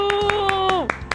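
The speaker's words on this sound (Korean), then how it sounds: "우와, 우리 친구들 박수 정말 잘 치는구나." Preschool children in a Sunday church service clap hands together in a quick, even rhythm while a held musical tone sounds over them, then the claps carry on briefly alone.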